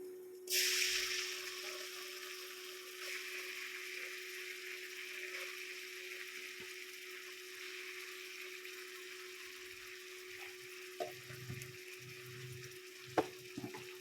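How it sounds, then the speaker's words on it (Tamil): Ginger garlic paste sautéing in oil for a goat intestine curry, a sharp sizzle bursting up at the start then settling into a steady frying hiss, with a few stirring clinks near the end. "இஞ்சி பூண்டு பேஸ்ட்டை சேர்த்ததுக்கப்புறம் நல்லா போட்டு வதக்கணுங்க"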